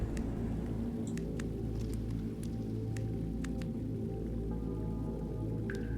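Water trickles through a cavern in the game The Longing: scattered single drips land sharply at irregular moments over a low, steady ambient rumble, with no voices.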